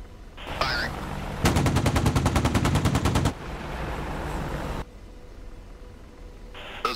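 AH-64D Apache chain gun in DCS firing one long, loud burst of rapid, evenly spaced shots for about two seconds, wrapped in steady rotor and engine noise, with no talking.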